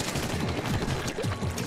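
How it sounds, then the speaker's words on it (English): Rapid bursts of explosions fire off one after another in the Splatoon video game, a dense crackling barrage that keeps a steady loud level throughout. "Just explosion after explosion."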